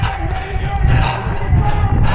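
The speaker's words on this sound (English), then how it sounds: "So you can hear the cheering ahead." Crowd cheering along a running race course near the start area, a steady broad roar of many voices heard from a short distance, continuous throughout with a faint sustained tone beneath.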